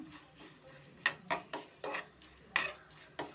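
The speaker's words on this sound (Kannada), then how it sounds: "ಮೀಡಿಯಂ ಫ್ಲೇಮಲ್ಲೇ ನಾವು ಫ್ರೈ ಮಾಡ್ಕೊಳ್ಳೋಣ" Cashews frying in ghee in a pan on a medium flame for bisi bele bath, with a spoon tapping and scraping the pan in sharp, roughly regular clinks over a faint sizzle.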